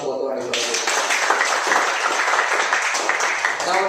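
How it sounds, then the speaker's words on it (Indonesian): A church congregation at JKI Betlehem claps together, a dense, sustained wash of applause that swells in right after a brief pause. "Tepuk tangan buat Tuhan Yesus."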